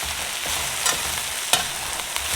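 Steady sizzling and crackling of okra and potatoes frying in a pan, with a few soft scrapes of stirring.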